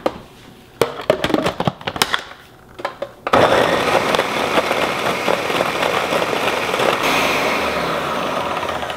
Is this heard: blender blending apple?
yes